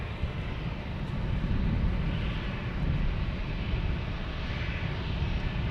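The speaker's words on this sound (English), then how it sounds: "This Southwest 737 is headed to Dallas Love Field." A Southwest Boeing 737 airliner bound for Dallas Love Field, heard at San Diego as a steady, loud, broadband engine roar that holds evenly throughout, with no voices.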